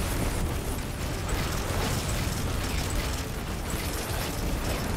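A weakened grenade going off in a first-person shooter video game, a dense continuous roaring blast that fills the whole clip at steady loudness with no talk.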